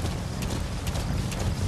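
Horse hooves clip-clop in rapid, even rhythm during gameplay in Metal Gear Solid 5, steady and close over a dense game background hum, with no talking.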